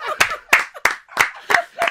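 Six sharp, evenly spaced hand claps from a group of people at a live Korean traditional music (gugak) broadcast, loud and close, with short gaps between them and no talk.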